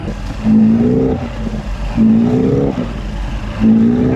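A Chrysler engine on a 1982 Glasstream bass boat revs hard in three repeated surges, each rising in pitch then settling into a steady drone, throttling up close by.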